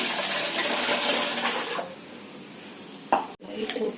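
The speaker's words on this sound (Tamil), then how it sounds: "2 டம்ளர் தண்ணி ஊத்துறாங்க." Water poured from two tumblers into a cooking pot splashes loudly for nearly two seconds, then fades into quieter kitchen handling with a sharp clatter toward the end.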